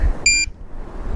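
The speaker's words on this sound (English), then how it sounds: "You take and press the plus button and you hold it down and then it'll beep." A Pro-Find 40 pinpointer gives a single short, sharp high-pitched beep as its button is held, loud and close, then quiet.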